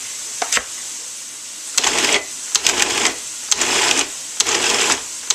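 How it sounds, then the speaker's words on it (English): A food processor chopping venison in bursts: a whirring, rattling motor pulses on and off several times, fairly close and loud, with brief pauses between pulses and no talking. "You can chop it by hand, but I just use the food processor."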